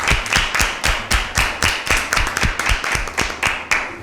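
A studio audience claps a steady rhythm to welcome the teams of an Easter Bible quiz show, crisp loud claps in an even beat, close and with no talking.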